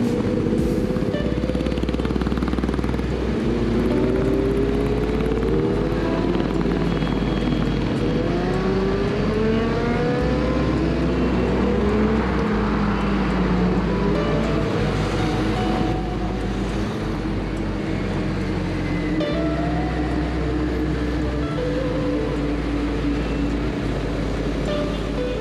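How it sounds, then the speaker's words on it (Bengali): Superbikes ride by on a highway near the Dankuni toll plaza during an Independence Day group ride, with a steady loud engine drone and wind roar throughout and rising and falling revs from several passing machines. "সুপার বাইকের সাউন্ড তো শুনতেই পাচ্ছ।"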